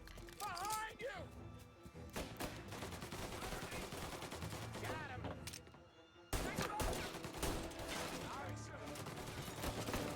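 Rapid video game gunfire, including machine-gun bursts, rattles almost continuously and loudly, briefly dropping out before resuming, with voices and game sounds mixed underneath.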